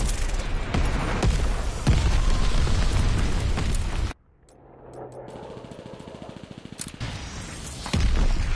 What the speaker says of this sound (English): Heads up, enemy glide bomb coming in hot.